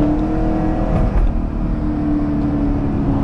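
A Dodge Challenger Hellcat Redeye engine idles and revs steadily up close, a low rumbling drone with a rough, sputtering texture of exhaust pops throughout.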